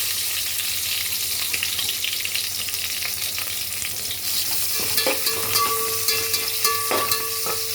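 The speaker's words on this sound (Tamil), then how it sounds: "இந்த ஸ்டேஜில் நம்ம வெங்காயத்தை போட்டுக்கலாம்." Onions going into hot oil with mustard seeds, urad dal and curry leaves, sizzling and frying steadily while a spoon stirs, with brief scraping clinks near the end.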